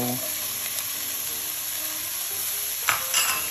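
Red, yellow and orange bell peppers sauté in a hot pan for a copycat chipotle chicken pasta, giving a steady close sizzle with occasional stirring scrapes and a brief clatter near the end.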